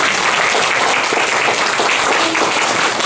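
Loud, dense audience applause at an academic conference for a professor and graduate school president, a continuous wash of clapping from a large crowd, close and steady throughout.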